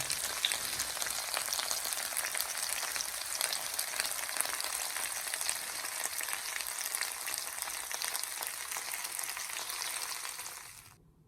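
Ginger pork frying in a pan, a steady dense sizzle with crackling pops, close and fairly loud, continuing for about ten seconds before fading out.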